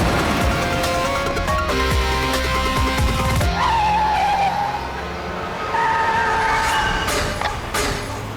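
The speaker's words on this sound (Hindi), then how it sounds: "ये गाड़ी ऐसे क्यों चला रहा है? ये तो एक्सीडेंट कर देगा।" A car driven erratically with tires skidding and squealing, loud and close, with engine revving and long screeches running continuously with no talk.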